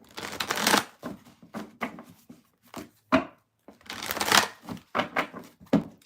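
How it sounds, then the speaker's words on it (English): A deck of tarot cards is shuffled by hand in bursts of quick, crisp riffling and flicking, close and clear. Short pauses separate a few longer runs of rapid card slaps. "Shuffle, shuffle, shuffle."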